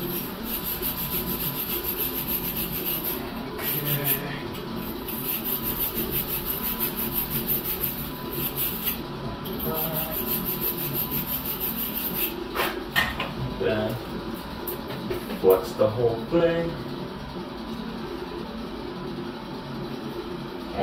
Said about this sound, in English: the flux sticks in there better as well if you sand it out like that, scrape it out